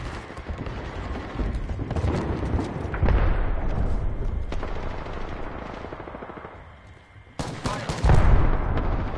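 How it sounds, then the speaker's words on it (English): Rapid automatic gunfire and bursts of shots in the Apex Legends video game, loud and sustained with brief lulls, a sharp renewed volley near the end, players talking over the shooting. "I'm getting shot at"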